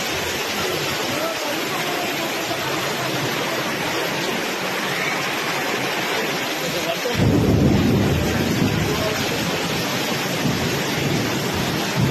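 Heavy rain pours steadily in Hyderabad as a dense, loud roar, and a low rumble like thunder swells for a few seconds midway.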